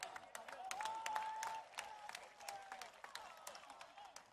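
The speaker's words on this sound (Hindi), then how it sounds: "तालियां" Scattered, fairly faint applause rises from the crowd at a Congress rally in Maharashtra for Rahul Gandhi, with distinct individual claps popping out over a low background murmur.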